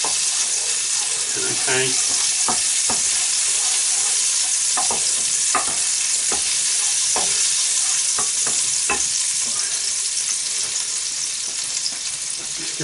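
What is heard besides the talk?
breaded cutlets frying in oil in a pan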